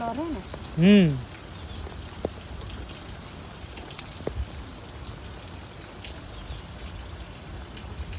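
Rain falls steadily and softly through the whole stretch, a continuous hiss over an outdoor scene, with a brief tonal hum near the start and a few faint knocks in the background.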